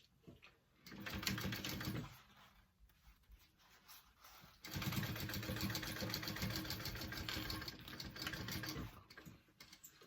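A sewing machine top stitches a backpack gusset in two steady bursts of rapid, even stitching, separated by a short pause and ending in quieter ticking.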